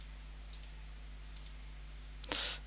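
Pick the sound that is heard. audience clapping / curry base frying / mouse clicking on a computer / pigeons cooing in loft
mouse clicking on a computer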